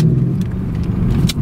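A Mercedes-Benz CLS 63 S AMG sedan's engine holds steady high revs against the brake at launch, a loud, continuous, droning roar heard up close with no voices.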